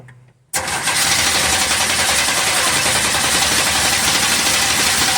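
Engine catching after hard cranking, roaring up suddenly after a half-second of near quiet and then running steadily loud and rough at close range.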